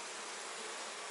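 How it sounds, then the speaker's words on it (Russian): Honeybees work in an opened hive, a dense, even buzzing drone filling the whole moment at close range without pause. "Пчелки его спокойно работают, запечатывают."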